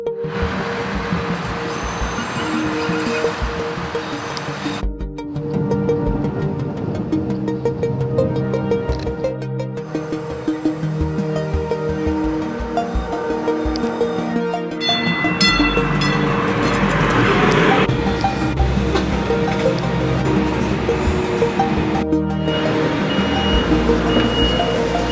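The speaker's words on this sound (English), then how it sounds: "Train, bye-bye train." A loud train rumbles through a station, its heavy rolling and mechanical clatter steady and close, swelling as it passes.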